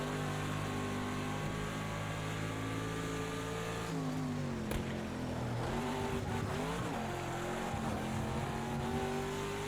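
Chevrolet Grand Prix GTD race car at COTA in Project Cars with a damaged engine, a continuous high-revving engine whine that drops sharply on a downshift midway, with brief tire squeal, then climbs again.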